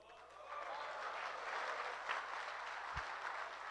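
An audience applauds at an international mushaira poetry recital in Jubail, a sustained wash of clapping from a crowd that holds steady at moderate volume throughout, with no speech over it.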